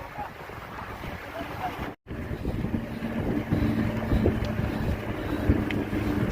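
Wind roars steadily across the microphone during a group bike ride in the Shakbut area near Al Wathba, a continuous rushing buffet with one brief dropout and faint talk underneath.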